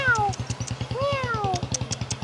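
A cat gives two clear, drawn-out meows, close and fairly loud, over a steady rhythmic mechanical pulsing in the background.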